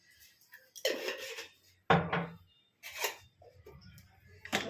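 A spoon stirs dalia (broken wheat) with salt in a pot, giving a few short, close scraping and knocking bursts separated by quiet gaps.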